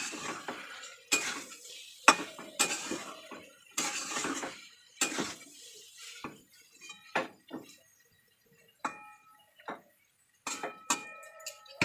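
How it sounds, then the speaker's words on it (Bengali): A metal spatula tip chops and scrapes lumps of taro stolon curry in a pan, giving a run of sharp irregular clinks and taps with quiet gaps between them, close by and with no talk. "এগুলোকে আমি ভালো করে খুন্তির মাথা দিয়ে কেটে দেবো।"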